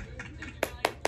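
A few distinct hand claps ring out near the mic, two sharp loud ones following softer ones, with voices chattering underneath.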